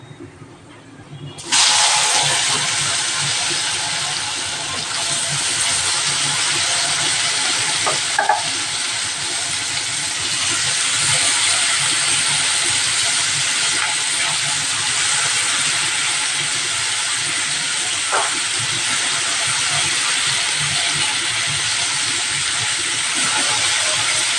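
Ivy gourd (tondli) dropped into hot oil tempering with asafoetida and turmeric, giving a sudden loud burst of sizzling that settles into a long steady hiss with occasional stirring clatters, close by and under no talk.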